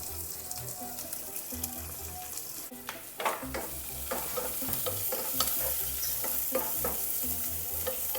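Cumin, green chillies and onions frying for chicken mandi, with a soft steady sizzle under quiet stirring and scraping in the pan, along with some faint splashes of running water.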